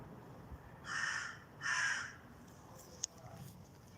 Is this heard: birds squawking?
yes